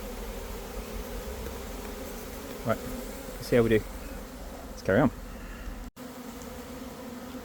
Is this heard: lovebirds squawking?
no